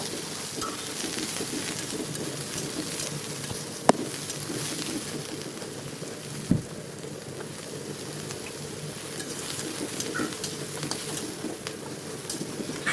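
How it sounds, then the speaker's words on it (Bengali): Soybean chunks frying in hot mustard oil in a wok over low heat, a continuous soft sizzle and crackle with occasional stirring knocks from a utensil, close and even throughout, no talk. "এরপরে আমি সবগুলো সবিন বড়ি দিয়ে দেব কিছু সময় ধরে সুন্দরভাবে ভেজে নেবো"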